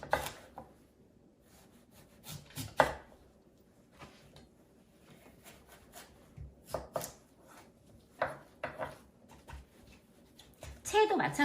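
Knife slicing vegetables into thin, flat pieces of even thickness for Korean first-full-moon dishes, giving scattered crisp cuts on a board, near and moderately loud, in uneven bursts with quiet gaps between.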